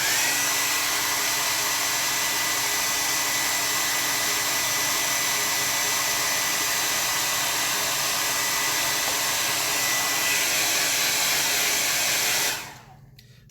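A hair dryer blowing steadily on a gouache landscape painting, a loud continuous whooshing roar held for about twelve seconds before it switches off and winds down, with no talking.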